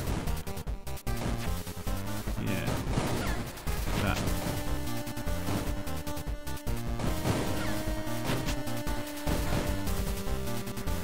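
Gunfire rattles in Monolith as sharp repeated shots and crashing impacts, layered over busy game sound and music at a fairly low level.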